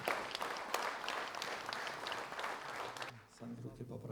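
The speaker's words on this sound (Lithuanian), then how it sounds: "Jūsų plojimai Viktorui Toleikiui." A concert audience claps steadily throughout, dense applause at moderate distance that drops away near the end as a voice begins speaking.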